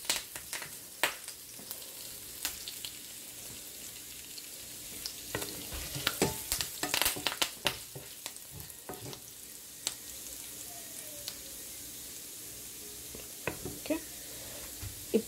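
Dried red chillies crackle and pop in hot tempering oil, giving sharp irregular spits and snaps over a soft sizzle, close by, with occasional stirring scrapes in between.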